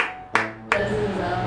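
Two sharp, soft claps about a third of a second apart stand out over a quiet room, with faint voices in the background, a restrained Quaker-style clapping.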